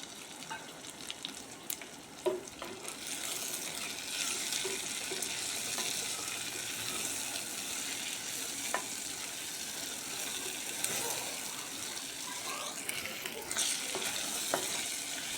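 Tomato frying in a clay pot for a village-style dry fish curry, a steady, moderately faint sizzle and hiss with occasional light scraping from stirring, continuous throughout.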